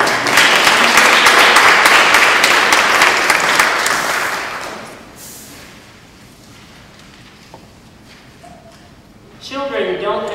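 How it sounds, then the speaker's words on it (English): A school audience at the Clinton School applauds loudly and steadily for about five seconds before the clapping fades into quiet room noise, with a brief swell of voices near the end. "So we can give you a round of applause."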